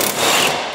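A ratcheting wrench works a coilover suspension bolt while a second wrench holds the other end, giving a short, dense burst of metallic clicking that stays loud and steady for under a second with no talk.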